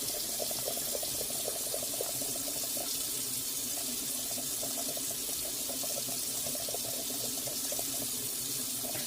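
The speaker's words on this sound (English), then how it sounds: "as I add that hot water, I'm going to briskly be just stirring, because I want to first get the lumps out" Hot water poured into flour and briskly stirred to make gravy for a Sunday beef roast dinner, giving a steady, moderately quiet trickling stream with soft stirring texture throughout and no voices.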